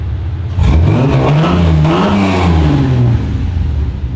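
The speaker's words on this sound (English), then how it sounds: "get our idle note, Michael." A car engine fitted with a stage 4 cam idles with a low rumble, then revs up briefly and settles back down, loud and close.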